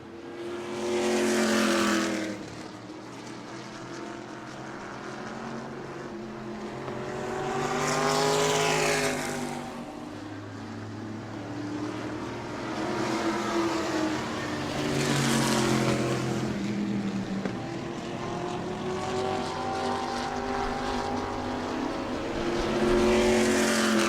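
Race cars lap a short oval at New Smyrna Speedway during a Florida Southern Ground Pounders feature, engines swelling loudly as each pack passes close by and fading between passes in a steady rhythm, with no talk.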